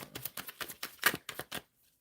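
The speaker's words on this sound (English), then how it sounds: "before I keep shuffling" Tarot cards shuffled by hand in a rapid run of about nine crisp papery riffles and slaps, close and fairly quiet, ending in silence.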